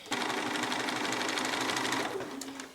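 A sewing machine stitches binding onto the edge of a quilt, its needle running in a fast, steady, close mechanical whir that slows slightly near the end, with no talk.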